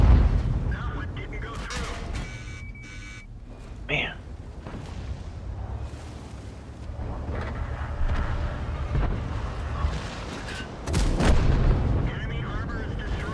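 Tank cannon fire in a tank combat video game, with a sharp boom near four seconds and a louder blast around eleven seconds over a steady rumbling background, with a voice talking at times.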